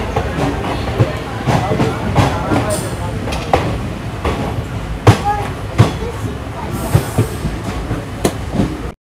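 The Bangalore–Karaikal Express 16529 rolls at Vriddhachalam Junction with loud, close rhythmic clickety-clack, thumping wheel joints and brief squeals, and a voice faintly underneath.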